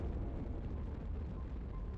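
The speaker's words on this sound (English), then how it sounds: "There's an explosion." A deep, rumbling explosion from breaking thrusters in the space game Astroneer, a sustained low roar that fills the whole moment at steady loudness with no voices over it.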